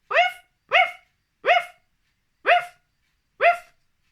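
A person imitating a dog, voicing five short, loud, evenly spaced barks close up with silent gaps between them.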